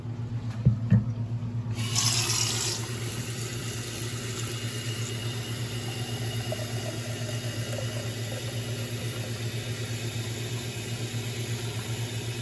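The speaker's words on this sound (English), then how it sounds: "Our first step is going to be to fill our pot with water." Tap water running into a cooking pot in a kitchen, a steady hiss and low rush held at an even level, preceded by a brief clatter and splash as the flow starts.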